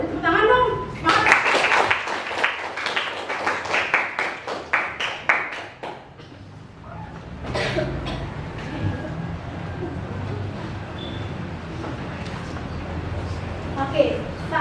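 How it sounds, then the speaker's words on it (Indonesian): Schoolchildren in a classroom clapping their hands in quick rhythmic bursts, then the clapping fades into general room noise and chatter as a teacher speaks. "Jadi tepuk tangan dong"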